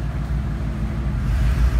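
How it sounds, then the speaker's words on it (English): A 2017 Ford Mustang 5.0 V8 idles steadily, with a low, close, continuous exhaust rumble that dips slightly as the revs fall. "Car just dropped RPMs a little bit."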